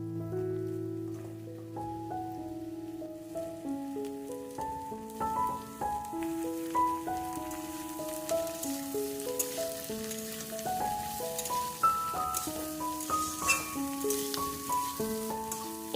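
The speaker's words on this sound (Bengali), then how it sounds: "গাজরটা এখানে অ্যাড করছি তারপর একটু গাজরটা ভাজা ভাজা হয়ে এলে" Carrots fry in oil in a pan, a steady sizzle under soft background music, a continuous fine crackle with no talking.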